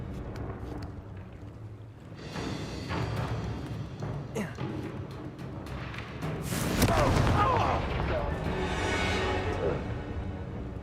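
A Confringo spell explosion in Hogwarts Legacy lands as a loud, broad blast among rumbling game effects, with a short burst of noise followed by a sustained roar and voices nearby.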